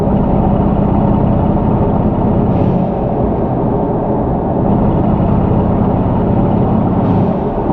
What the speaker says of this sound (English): So down low, you do get that nice, aggressive exhaust note.